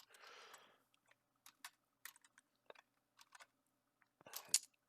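Keyboard shortcuts typed on a computer keyboard make scattered, quiet clicks and short bursts of keystrokes in a silent room, with a soft rustle at the start.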